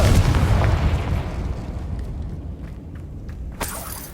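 A Confringo explosive spell goes off in Hogwarts Legacy, a loud booming blast that decays into a rumbling tail, with a sharp second burst near the end.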